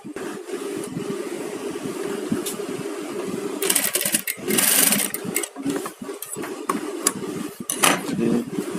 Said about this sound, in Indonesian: Kita jahit saja.